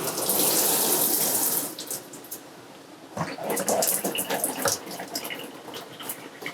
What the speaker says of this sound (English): You have your working shower.